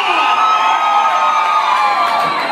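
A crowd shouts and cheers for the Chivas Rayadas del Guadalajara football club at a conjunto norteño show, a dense, loud, sustained roar of voices with whoops throughout.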